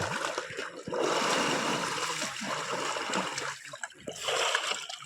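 Water splashing as someone bathes in a forest stream along a walking pilgrimage route to Srisailam: close, continuous rushing flow broken by uneven splashes and sloshes, with a brief lull near the end.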